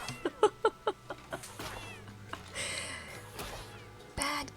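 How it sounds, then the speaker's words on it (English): A cat in a video game gives a quick run of short, rhythmic meows, then longer drawn-out caterwauling cries, moderately loud and close against a faint background. "The cat's abusing Skelly again."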